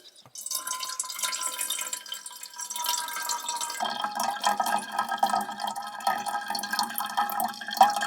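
Brown stream water trickling and dripping steadily through a filter into a container, a thin continuous patter that grows fuller partway through, close and alone.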